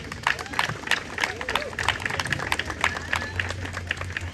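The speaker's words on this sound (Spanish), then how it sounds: "Denle un fuerte aplauso a Carla." A crowd at a university event claps in scattered, moderately loud bursts with some murmuring voices, the applause sounding a little distant.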